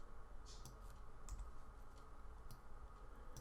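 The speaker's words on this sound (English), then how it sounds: "hitting R on the keyboard" Keys tap on a computer keyboard while working in 3D modeling software, a few faint, sparse clicks over a steady low hum.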